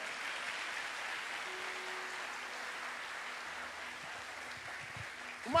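A church congregation applauds during an evening service, a soft, steady spread of clapping from many people, fairly distant and even, ending in a sudden louder noise.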